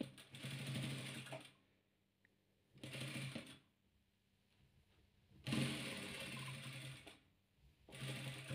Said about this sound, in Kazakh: Сонда мына екеуін тігіп аламыз.